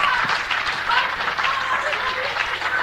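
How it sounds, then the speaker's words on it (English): Audience clapping fills a meeting hall, a dense, continuous patter of many hands lasting a few seconds, with voices mixed in underneath. "Comrades, can you stop clapping a moment"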